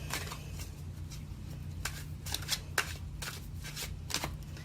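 Tarot cards shuffled in a series of quick, crisp riffles and snaps, fairly close and quiet, over a low steady hum.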